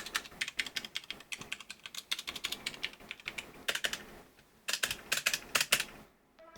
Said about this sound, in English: Let's be quiet, cause they want to hear the keys